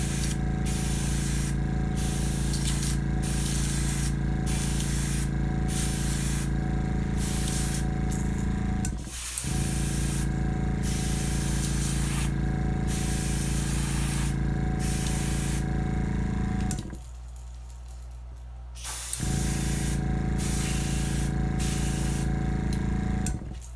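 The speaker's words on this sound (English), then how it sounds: "And you gotta spray at an angle." Continuous hissing of an airbrush spraying paint onto a 3D-printed crankbait fishing lure, close and steady, with brief pauses where the spray cuts out before resuming.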